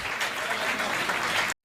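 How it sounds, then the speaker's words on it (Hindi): Applause from the audience at a Hindi kavi sammelan poetry recital, a brief burst of dense clapping that cuts off abruptly. "तालियां जोरदार बजना चाहिए।"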